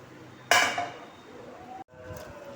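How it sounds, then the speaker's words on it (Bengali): Utensil scraping and clinking in a bowl while semolina idli batter is mixed with a tempering, one loud clatter at the start followed by softer scraping and a brief second knock, close and alone. "মিক্স করে আবার ঘেটে দেবো"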